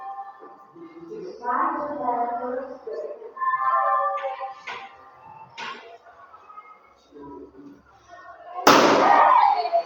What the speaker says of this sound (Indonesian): Balonnya meledak.